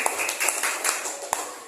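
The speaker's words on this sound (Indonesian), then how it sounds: "Tepuk tangan buat Bu Rita." Audience applause for Bu Rita at a school session on positive culture: a short burst of dense, fairly close clapping that runs steadily, with a few sharper hand claps standing out.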